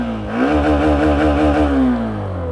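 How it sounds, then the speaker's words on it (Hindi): An Xtreme 125R motorcycle engine in power mode revs up from idle, holds a raised, throbbing pitch, then settles back down, loud and close with no talking. "एक्सट्रीम 125R का पावर मोड में इंजन आवाज़ सुनाओ"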